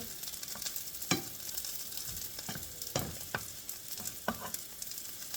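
Lentil sausage frying in a pan on medium-high heat, steady sizzle with several sharp clicks and scrapes as it is flipped and moved, no voices.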